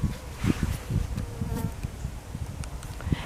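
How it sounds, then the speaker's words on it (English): Bees buzzing around a flowering spiderwort plant in a garden, a continuous low drone that wavers as the insects move, close and clear, with no talk. "Got bees buzzing around it."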